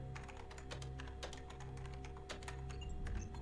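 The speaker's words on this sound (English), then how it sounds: "Just kind of slaps the keyboard" Rapid keyboard typing and slapping in the Mirror's Edge video game on PS3, a dense run of clicky key strikes running steadily throughout over a humming game background.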